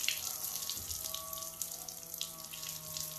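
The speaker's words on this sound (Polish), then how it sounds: "O, pompka działa." Small water pump in a Niewiadów N126 camping trailer drawing water through an opened tap, a steady splashing stream with a faint tonal pump hum underneath, close and fairly quiet.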